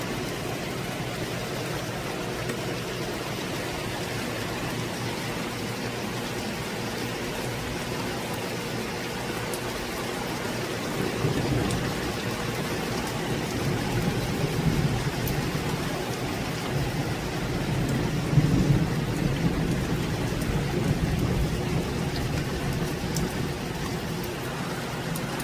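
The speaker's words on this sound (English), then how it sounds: "5 minutes later, here comes the rain." Heavy rain pours down outdoors in Jamaica, a dense steady hiss that swells slightly in the second half, with low rumbles suggesting distant thunder.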